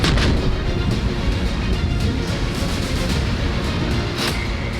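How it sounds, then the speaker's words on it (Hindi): Russian artillery cannons fire near the Afghan border in a dense, continuous barrage of booms that blur into a loud, rumbling wash with sharper cracks now and then. "अफगानिस्तान सीमा पर गरजी रूसी तोपें।"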